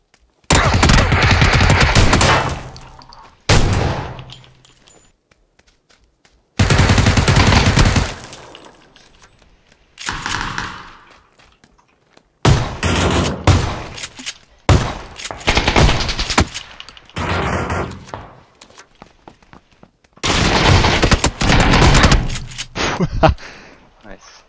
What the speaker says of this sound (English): Two headshots, 2 kills.